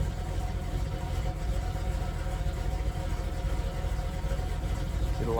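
A 1979 Dodge B300 camper van engine idles steadily with a fresh fuel pump, giving a continuous low rumble at moderate level throughout with no voices.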